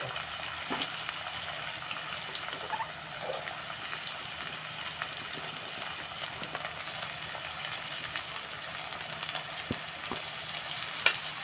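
Fenugreek seeds fry in a pan of oil for an egg curry, a faint, continuous sizzle with occasional small crackles and clinks of stirring.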